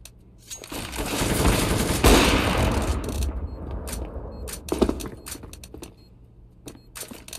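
Gunfire and a flashbang in a shooter video game round where a bomb is planted: a loud broadband blast swells and lingers, then sharp, scattered shots crack out one after another.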